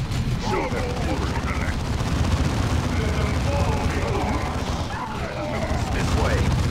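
Gunfire and explosions in the video game Dawn of War 2, a dense, continuous battle din of shots and crashes under voices throughout.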